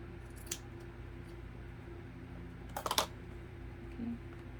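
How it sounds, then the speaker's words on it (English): A few quick scissor snips cutting through a fabric sock, close and crisp, with a short pause between bursts over a low steady hum. "I'm going to cut off up here at the top with the scissors"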